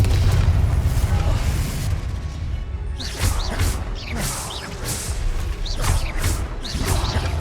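A Confringo blasting-curse explosion effect in a Spider-Man wizard-training battle: a heavy low boom rumbles up front, then a string of sharp crackling bursts and whooshes follows in quick succession, all loud and dense.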